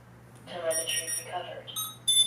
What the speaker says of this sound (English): You'll hear the proper beeps,